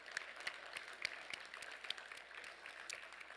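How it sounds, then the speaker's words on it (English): Audience applause for sponsors at a vegetarian banquet: a fairly quiet, steady patter of many hands clapping at a distance, with individual claps popping out here and there. "Can we please have a round of applause for them?"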